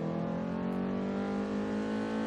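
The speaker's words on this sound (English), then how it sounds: "Now, I love the way this car sounds" Nissan 240SX with upgraded intake and exhaust in Forza Horizon 3, a loud rich engine drone held at steady revs with a buzzy harmonic tone, close and continuous without any talk.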